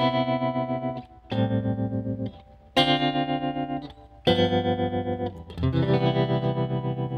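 A Fender Princeton Reverb amp plays sustained chords with a warbling, chorus-like time-based effect, each chord ringing for a second or so between brief gaps, loud and close with no talking.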